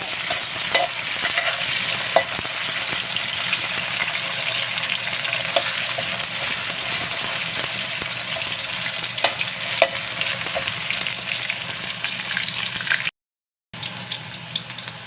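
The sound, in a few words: frying menudo spices and aromatics in a pan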